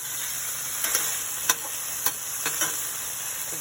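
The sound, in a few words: broccoli florets sautéing in a pan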